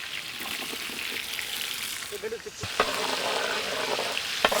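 Chopped garlic, onion and green chilies sautéing in a hot pan for American chop suey, with a loud, dense, continuous sizzle and occasional stirring scrapes and clatter, close up.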